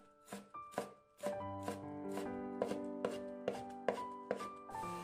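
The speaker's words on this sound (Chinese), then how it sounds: "下面我们来切一点葱花" Kitchen knife chopping scallions on a cutting board, a steady run of about a dozen crisp, close knocks in an even rhythm with no talking.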